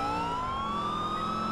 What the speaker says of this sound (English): Turn the sirens off.